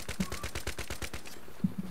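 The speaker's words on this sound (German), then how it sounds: "Oh, er hat mich erschossen. Mit der M60, natürlich." An M60 machine gun in Battlefield 3 fires a fast, even burst of about a dozen rounds lasting over a second, then cuts off, leaving a couple of faint thuds.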